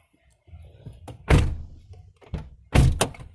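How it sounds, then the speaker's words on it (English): Door of a 2015 Scion xB shutting, two solid close thunks about a second and a half apart, each preceded by softer handling clicks, with quiet gaps between. "Go ahead and shut your door."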